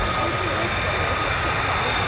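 Military fighter jet, F-15 or F-35, taking off and climbing at an air base, a broad steady roar heard at moderate level for a couple of seconds.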